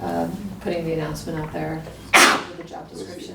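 A single sharp sneeze bursts out loud and close in the middle of a small-town planning commission meeting, interrupting ongoing talk from a nearby speaker.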